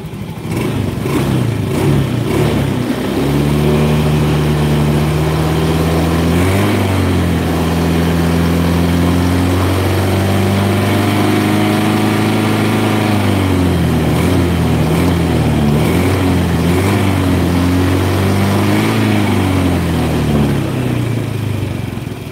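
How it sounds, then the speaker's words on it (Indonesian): A car engine under diagnosis for a fault, with the O2 sensor and injectors checked, idles steadily and close, then its speed is raised in several slow revs that rise and settle, with no talking over it. "putaran mesin kita tambahin dikit"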